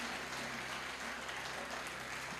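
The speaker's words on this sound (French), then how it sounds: "Nous nous applaudir encore pour ça." A church congregation applauds during an evangelist's sermon, a steady dense wash of clapping with no break throughout, fairly quiet with a faint low hum underneath.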